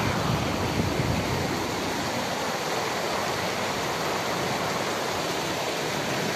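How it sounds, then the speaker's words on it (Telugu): Rain-swollen floodwater of the Madenahalli stream rushes past in a loud, continuous broadband roar, close by and unbroken, with no voices. "ఎలా పోతున్నాయి ఈ నీళ్ళు"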